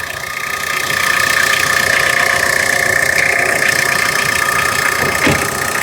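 Tata Sumo 2014 diesel engine running steadily, a loud continuous mid-pitched drone with a faint knocking hum throughout, close by and without talk.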